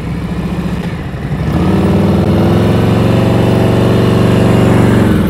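A motorcycle engine at slow riding speed: a loud, close, throbbing drone that rises as the rider raises the revs and keeps a steady, shaking rumble.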